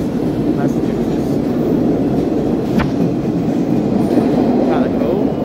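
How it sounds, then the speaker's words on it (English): Subway train rumbling through a tunnel in Boston, a steady loud roar of rail noise filling the whole stretch with faint clatter, heard up close from the platform. "wait for our subway to go to Chinatown to get our dinner"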